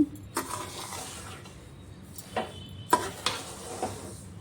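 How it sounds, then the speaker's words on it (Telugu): Semolina is roasted in a pan on a low flame while a spoon stirs it, giving soft scraping and occasional light clinks against the pan over a faint background, with no talk. "రవ్వను ఇలా లో ఫ్లేమ్లో పెట్టుకొని బాగా వేయించుకోవాలి"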